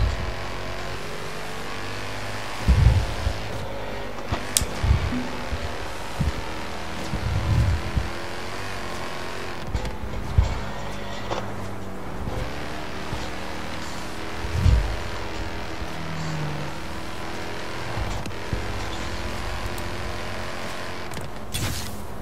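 Cars driving in Forza Horizon 3 produce a steady engine drone with changing pitch, broken by scattered low thumps and a few sharp bangs, and no voices over it.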